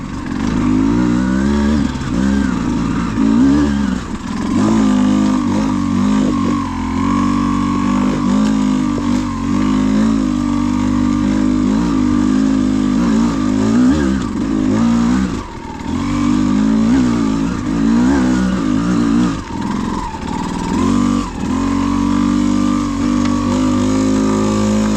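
A Beta X-Pro motorcycle engine labouring up hills, loud and close for the whole stretch, with a throaty mid-range drone that swells and dips as the throttle opens and eases.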